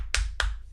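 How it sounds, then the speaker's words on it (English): Two sharp hand claps a moment apart, close and fairly loud over a low steady background hum, with no talking. "big round of applause"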